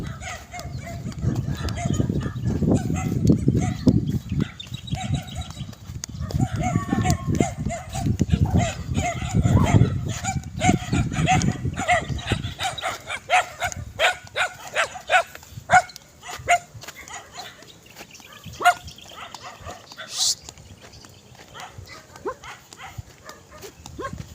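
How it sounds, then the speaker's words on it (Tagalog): Outdoors on a farm, several dogs bark on and off in short bursts, some near and some farther off, with rustling and a busy rural background with cattle and goats throughout. "Sa lubong ng tahol lang mga aso."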